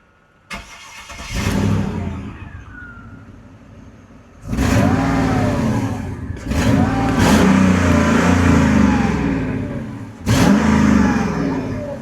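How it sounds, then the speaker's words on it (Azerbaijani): A Mercedes CLS with a naturally aspirated M113 engine rated at 306 horsepower revs hard in several loud, close bursts, each rising and falling back to a lower idle between throttle blips. "İndi isə 306 at gücünü səsini sizə eşitdirəcəm."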